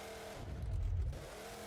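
A Monster Jam monster truck wedged on a crushed box truck at the Fargodome, its engine revving hard in one sustained, rising and falling roar that swells mid-clip, loud and close, with no talk.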